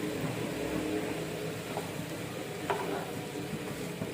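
Tomato and curry leaves with turmeric stirred in a hot pan, a steady soft sizzle with scraping and stirring noises running throughout, moderately quiet and close, with no voices.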